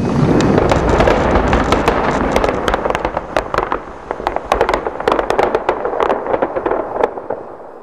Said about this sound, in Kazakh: Содан кейін жарылыс жүргізілді.